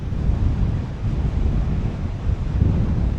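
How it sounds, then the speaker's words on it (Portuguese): Strong gusting wind over a rough sea along a fishing shore, a loud, continuous roaring rush buffeting the microphone with churning surf underneath. "Nessa ventania aí."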